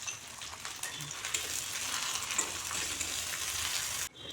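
Green and dried chili paste with turmeric fries in a hot pan for a sour-spicy puti fish dish, a loud, steady sizzle that runs throughout and cuts off abruptly near the end.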